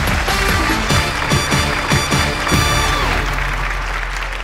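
A studio audience at a Thai country-music singing contest show applauds under loud music with a rhythmic beat and sustained tones, the clapping a broad wash blended with the band.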